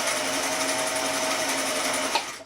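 A vintage Singer sewing machine, either a 413 or a 476, stitches slippery fabric with a steady, fast mechanical whir that runs unbroken and close up, ending with a small clunk.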